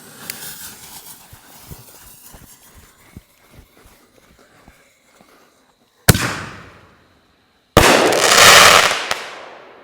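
A massive firework assortment cake goes off: scattered crackling pops fade out, then two loud shots burst in quick succession, the last followed by a long, dense crackle.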